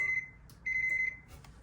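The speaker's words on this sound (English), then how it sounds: "I actually like this Panasonic ringtone, the beeps." A Panasonic cordless phone rings with bright electronic beeps, two steady tonal bursts close by with a short pause between them, and no talking.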